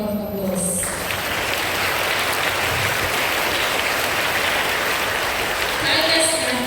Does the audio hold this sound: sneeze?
no